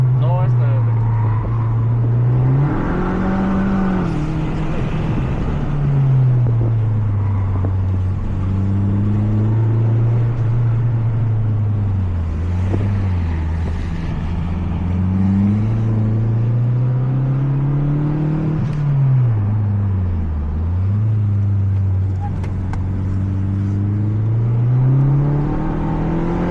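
Mazda 3 MPS Turbo engine on a track, revving steadily and rising and falling in pitch through gear changes, loud and continuous from inside the car for the whole stretch.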